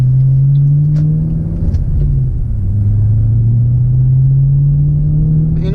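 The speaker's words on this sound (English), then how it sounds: "Manual transmission, nice V8 rumble, enough thrust to set you back in the seat" Factory supercharged Ford V8 in a manual-transmission car rumbles steadily and loudly throughout, a deep continuous drone that dips slightly and rises again, with no talking.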